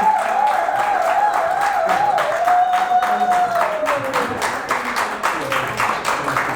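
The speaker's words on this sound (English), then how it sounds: "Please keep clapping. Clap for them." Sustained applause from an audience at a community breast cancer awareness event, steady and dense throughout with a faint tone sliding beneath the clapping.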